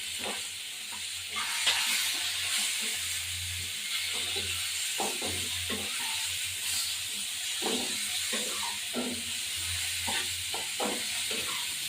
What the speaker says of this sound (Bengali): তেল ছিটকে গেছে, এবার এটাকে ভেজে নিই